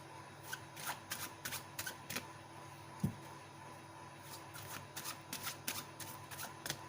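A deck of reading cards is shuffled in repeated quick riffling bursts, crisp papery flutters recurring every half second or so with a brief pause in the middle, close and moderately quiet.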